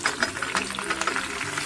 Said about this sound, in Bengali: এরপর আমগুলো এপিট ওপিট করে ভেজে নিচ্ছি।